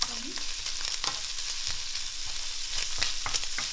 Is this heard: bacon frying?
yes